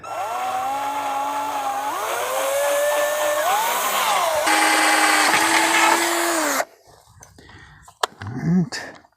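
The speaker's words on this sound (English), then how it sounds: "So we're just going to drill straight through up here" A power drill whines loudly for several seconds while drilling straight through to mount a cellular signal booster, its pitch rising and falling under load, then cuts off, followed by soft handling sounds and brief talk.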